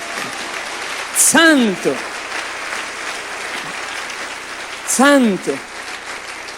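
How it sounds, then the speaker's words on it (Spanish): A church congregation at a Spanish-language service applauds the Lord with steady, dense clapping throughout, while a voice calls out loudly over it twice. "Dale un fuerte aplauso al Señor"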